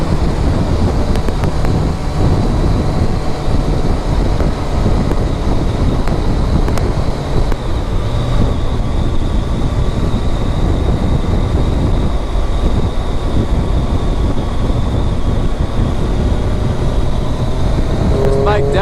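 A 2015 Triumph Daytona 675 is ridden hard at speed, its engine drone buried under loud, constant wind roar and rushing air for the whole stretch, with no clear gear changes breaking through.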